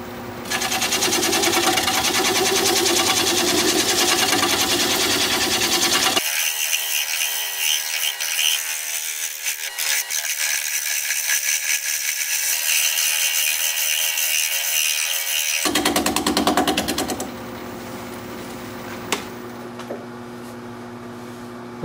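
A red cedar log spinning on a wood lathe as a gouge cuts into it, giving a continuous whirring hum with rough, bumpy chattering scrapes, a quieter stretch in the middle, then louder again before easing off.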